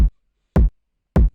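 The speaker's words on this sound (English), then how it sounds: "I used this kick number 30" Thick kick drum, sample number 30, struck three times at an even pace, each hit a deep punchy thump with a quick bright click on top that decays fast into silence.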